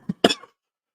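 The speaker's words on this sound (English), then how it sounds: "Whoa, a bit of a coughing fit." A person coughs in two short bursts, a single cough followed after a brief gap by a harsher double cough, close and dry, then quiet.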